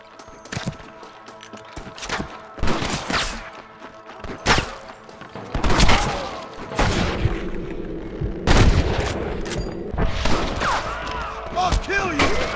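Gunfire in the Western video game Red Dead Redemption: repeated sharp shots and booms crack out irregularly across a busy battle mix, some close and loud, others more distant, with shouted voices in between.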